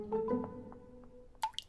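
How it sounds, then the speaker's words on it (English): A few soft water drips fall one after another, close by and fairly quiet, ending in a brief splashy patter. "Have you fixed a dripping tap before"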